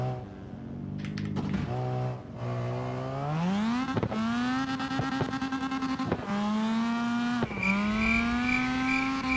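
In the CarX drifting video game, a drift car's engine revs loud and continuous, climbing through gear shifts with brief dips, and faint tire squeal is mixed in.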